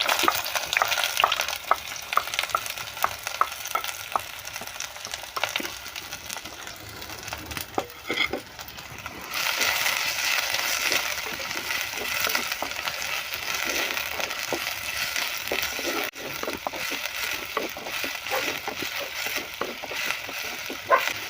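Ginger, green chili, curry leaves, garlic and onion sizzle in hot coconut oil, stirred continuously with scraping utensil sounds; a steady, close frying hiss runs throughout with no voices.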